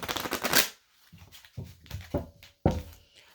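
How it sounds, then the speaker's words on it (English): A deck of tarot cards is riffled in one quick burst, then a few softer shuffles and taps of cards being squared together. "Let's give it another shuffle."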